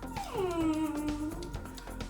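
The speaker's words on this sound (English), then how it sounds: "That's the dog you can hear in the background." A dog whimpers and whines in a high, falling tone in the background of a garage, a short plaintive call over quiet surroundings.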